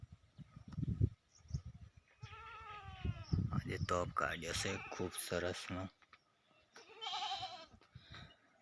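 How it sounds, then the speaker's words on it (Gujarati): Household goats bleat several times nearby in a rural tribal-area home, loud wavering calls alternating with a man's speech. "આ મારા ઘરના બકરા છે, બકરીઓ."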